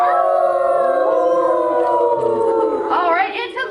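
A zoo show audience in Palm Springs joins in a long, wavering crowd howl imitating a singing dog, many voices sliding and overlapping loudly, with a rising higher howl toward the end.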